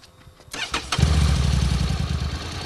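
A Honda NC750 Integra scooter-style motorcycle starts up: a quick whirring crank of the starter, then the engine catches and settles into a close, steady idle rumble.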